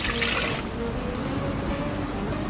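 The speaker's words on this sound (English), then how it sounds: "In goes the water." Water pours into a stew pot for oxtail stew as a loud, continuous rushing splash that lasts the whole stretch without a break.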